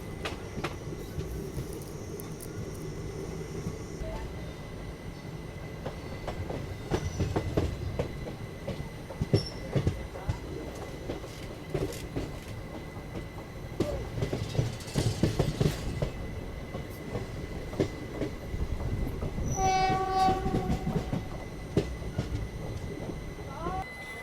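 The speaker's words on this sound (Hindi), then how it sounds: "फ़िलहाल अपनी ट्रेन पहुंची है गुजरात के हिम्मतनगर रेलवे स्टेशन पे" A train rolls into Himmatnagar railway station in Gujarat, India, its wheels clattering over the rails with rumbling and squeals as it slows. A horn-like tone sounds near the end.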